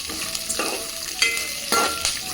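Ingredients for a Telugu all-purpose pickle sizzle steadily in a hot pan, with bursts of scraping and stirring at intervals over a constant frying hiss; nobody talks.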